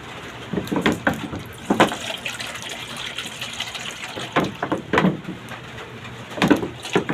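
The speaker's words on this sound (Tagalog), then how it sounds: "Lagyan natin siya ng tubig." Water poured into a cooking pot in a home kitchen, with a steady running splash and several louder gushing bursts close by.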